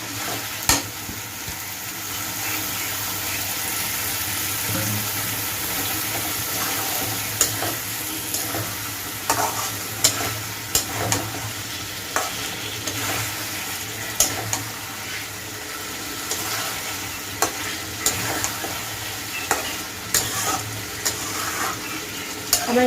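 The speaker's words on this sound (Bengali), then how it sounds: "এবার আমি কলার মোচাগুলো মশলার মধ্যে দিয়ে একটু কষিয়ে নেব।" Half-boiled banana flower sizzles steadily as it fries in spice masala in a pan, with repeated scraping stirs of a spoon cutting through the continuous hiss.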